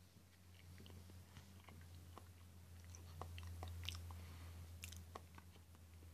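Someone eats blue raspberry Sour Patch Jello from a spoon, with soft close-up chewing and small wet mouth clicks, quiet and intimate with no talk.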